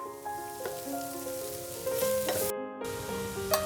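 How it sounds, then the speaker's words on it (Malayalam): Onions frying in a pan while potato stir-fry is prepared, with an even sizzle under clinking, tonal utensil tones and a brief pause, quiet and close. "ഇതിനെ ഒന്ന് നല്ലപോലെ ഫ്രൈ ആകണം."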